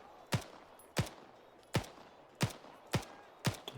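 Gunfire in the video game Arma 3: six sharp, evenly spaced shots ring out one after another at close range, each with a short decaying tail, with no voices.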